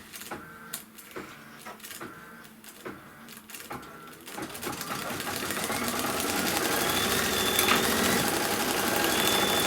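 An embroidery machine stitching a lacy fill inside a quilt block, first a few sharp separate clacks, then a steady fast, loud mechanical stitching rattle that builds and continues.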